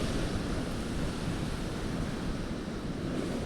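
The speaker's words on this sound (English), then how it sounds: "You can just hear the waves just crashing against some of these break walls here in the town of Greece." Lake waves crash steadily against break walls in the town of Greece during a severe storm, a loud, continuous roar of surf mixed with heavy wind noise buffeting the microphone, with no voices.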